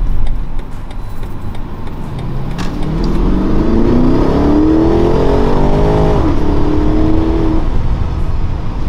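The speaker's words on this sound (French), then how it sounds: "Je pense que les pétarades vont se faire bien sentir." A BMW X7 M50i engine revs hard, its loud, close roar rising in pitch, dropping briefly, then climbing again before settling into a sustained high drone.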